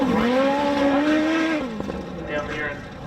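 Racing quad bike engine at a ridge jumping event, revving hard with a rising, sustained note, then easing off the throttle and coming back on, loud and fairly close, with a commentator talking over it.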